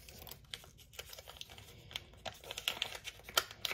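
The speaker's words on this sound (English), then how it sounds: "You just peel it open." Someone peels and crinkles open an LMNT electrolyte packet, a series of quiet, close crackles and tearing rustles that grow sharper and busier toward the end.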